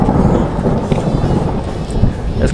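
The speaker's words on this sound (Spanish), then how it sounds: "Escuchen un pequeño gran relámpago" Low rumbling thunder from a close lightning strike rolls continuously and loudly through the whole stretch, with a dense low-end roar that could be mixed with rain or wind noise, and no talking.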